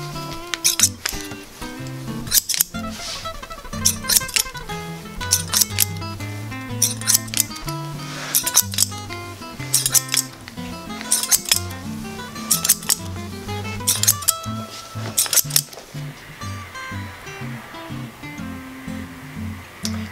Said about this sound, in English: And you accomplish that with scissors.